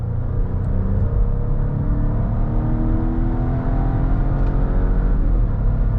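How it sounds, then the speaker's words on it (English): A 2023 Volvo S90 B6 sedan accelerates at full throttle, its engine a steady, loud rumbling whir that climbs smoothly in pitch through long gears, heard from inside the cabin with no talking. "And this is full throttle here."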